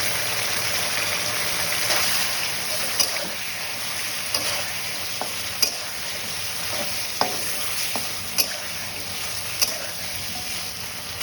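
Chopped potatoes and tomatoes fry in a pan for a fish curry with steady close sizzling, broken by repeated clinks and scrapes of a spoon stirring at irregular intervals, with no voices.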